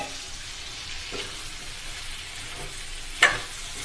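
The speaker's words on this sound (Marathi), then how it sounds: "हे जे रोस्टेड केलं होतं फ्लावर, जे मिक्स भाज्या रोस्टेड केले होते, मी आता त्याच्यात टाकणार।" Roasted cauliflower and mixed vegetables go into a pan and fry, a soft steady sizzle with a few stirring scrapes and one sharp clink near the end.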